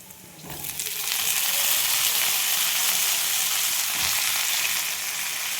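Chopped ridge gourd and potato hit hot oil with fried onions in a pan, setting off a sudden loud sizzle that holds as a steady, close crackling hiss.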